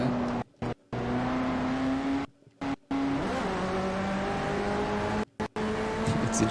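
A 2009 Bugatti race car in Forza Motorsport 4 drones with a steady engine tone, with sustained revving interrupted by several brief silent gaps.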